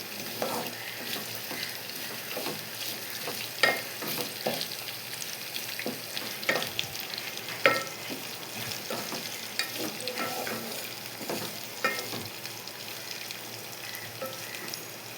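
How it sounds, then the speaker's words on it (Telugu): Green chilli pieces are stirred into a hot frying pan of peel chutney mixture, a quiet close sizzle broken by repeated spatula taps and scrapes at an irregular pace. "ఇందులోకి ఒక 4-5 పచ్చిమిర్చి ముక్కలు వేసుకోవాలి. వేసుకొని బాగా కలుపుకోవాలి."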